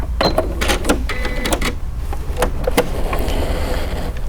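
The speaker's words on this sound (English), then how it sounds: "So my needle's going back and forth doing a nice serpentine across" A sewing machine stitches a serpentine stitch across a fabric seam, making close mechanical clatter in short uneven bursts.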